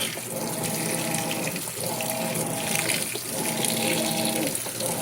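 A Whirlpool Cabrio WTW7000 top-load washer filling its tub with water on a normal wash cycle, a steady rushing gush with a low pump hum beneath, fairly close and continuous.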